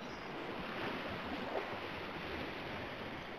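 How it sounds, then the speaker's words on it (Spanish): Steady broadband rush of ocean surf and water churning after a plunge into the sea in a video game, continuous and fairly close, with no voices. "Me he tirado al mar"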